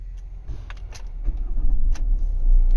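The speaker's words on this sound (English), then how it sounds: "So car starts with both keys." Engine of a 2014 Fiat Doblo starting on its key, a low rumble building and settling into a steady idle that grows louder toward the end, with faint clicks near the start.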